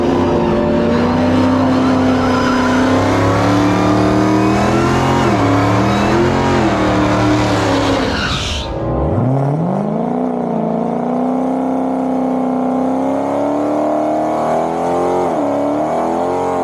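A car launches on a quarter-mile drag strip pass, its engine roaring loudly and rising in pitch through the gears, with a brief dip around a shift before continuing to pull hard and close.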